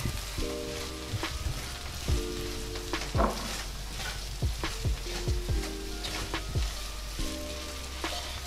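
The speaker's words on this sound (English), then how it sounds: "So we're just going to give that a stir." Seasonings with crushed red pepper are stirred in a frying pan, a close steady sizzle broken by repeated scraping stirs and clinks of the spoon against the pan, over a low humming background.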